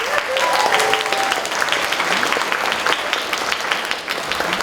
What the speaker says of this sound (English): I give a round of applause for these magic users.